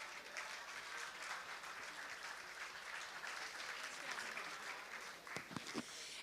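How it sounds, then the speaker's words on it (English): An audience at an Italian-American awards gala applauds an honoree with sustained, even clapping, fairly faint and distant, a few sharper individual claps standing out near the end. "Please, a big applause for our wonderful lady"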